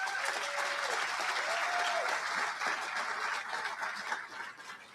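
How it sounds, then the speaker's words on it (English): Dense sustained applause fills a large room at an awards dinner, with many hands clapping steadily throughout and a few faint voices beneath it. "please join me in a round of applause for those families"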